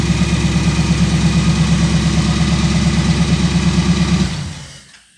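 A Bombardier aircraft engine idles with a steady, loud low drone and rhythmic pulsing, holding evenly before spooling down and fading out over the final second as it is shut off.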